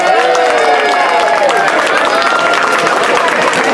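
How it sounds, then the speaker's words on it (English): Grown-ups in a crowd at a public school art show at Sotheby's applaud young artists, a dense steady wash of clapping with cheering voices and chatter mixed in throughout. "all the grown-ups, to please give them a round of applause"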